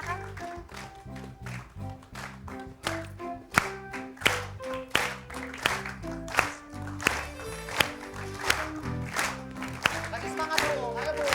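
A studio audience on an Indonesian comedy variety show claps for contestant Tati, sharp rhythmic claps punctuating loud music and a host's voice throughout.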